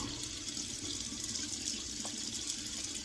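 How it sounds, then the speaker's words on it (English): Water runs steadily from a tap while being mixed into a shave soap, a faint, even hiss of flowing water holding on without break throughout. "I'm just going to mix some water in to really open it up."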